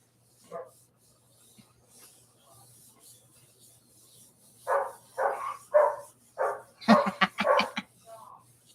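A dog barks several times in a quick burst, a cluster of sharp barks toward the end following quieter rustling, with a faint low hum underneath.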